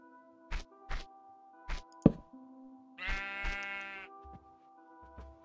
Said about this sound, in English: Oh my god, I heard sheep.